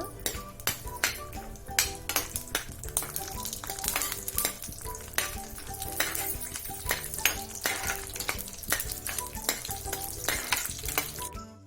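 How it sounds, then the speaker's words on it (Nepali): Dry fruits fry in ghee for caramel kheer, giving a continuous crackling sizzle close up, broken by frequent quick clinks and scrapes of a spoon against the pan. "अब हामीले ड्राई फ्रुटलाई हल्का रातो रातो हुँदै फ्राई गर्नुपर्छ।"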